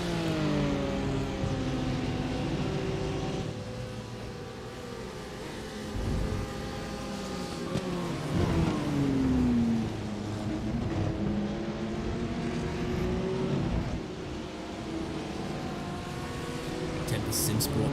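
BMW and Lamborghini race cars in a sim racing game at Barcelona, engines droning and shifting pitch as they pass and accelerate, with tonal whines rising and falling under continuous commentary talk.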